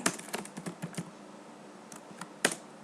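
Irregular keystrokes on a computer keyboard, close and clear, with quick bursts of typing at the start, a quiet stretch in the middle, then a few more taps near the end.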